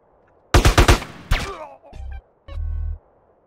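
A silenced gun fires in the video game GTA San Andreas: a rapid burst of muffled shots, then a single shot, followed by short tonal game sounds.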